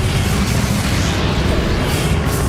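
Booming spell explosion from Hogwarts Legacy combat, a dense, loud, continuous rumble of blasts that fills the whole moment with no voices.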